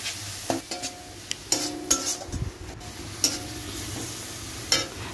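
Turmeric, chili powder, salt and ginger-garlic paste stirred and fried in a pan, with a steady low sizzle broken by several distinct scraping stir strokes and light utensil clinks, close up and without talk.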